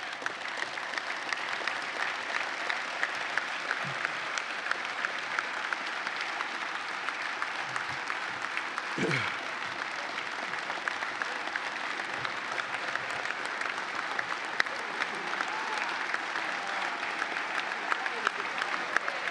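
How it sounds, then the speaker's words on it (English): A large crowd at the 2019 ILA longshoremen's union convention claps in a sustained, even roar of applause lasting the whole stretch, with a brief voice rising out of it partway through. "That's the one time you should get up and you should clap for us."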